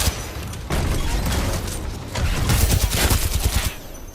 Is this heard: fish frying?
no